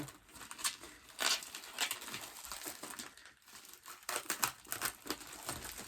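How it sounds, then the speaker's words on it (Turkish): Packaging from a parcel of books crinkles and crackles in repeated short bursts while the parcel is opened by hand. The sounds are close and fairly quiet, with brief pauses between them. "Bugün kargom açacağız arkadaşlar."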